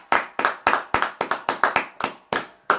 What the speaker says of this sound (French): Applaudissons le Seigneur très fort.